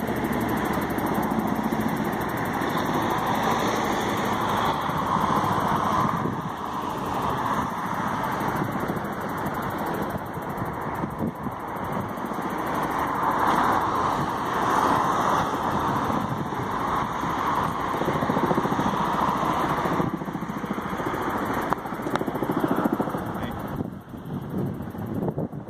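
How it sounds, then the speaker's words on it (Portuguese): Helicopter engine and rotor drone from a firefighting helicopter flying to fetch river water during a wildfire in Portugal, a steady, loud, continuous whine with wind buffeting the microphone throughout, no talking. "O helicóptero vai até o Rio Lima pegar água para jogar no foco de incêndio."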